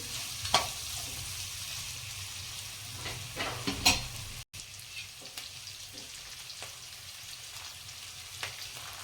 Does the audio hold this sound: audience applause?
no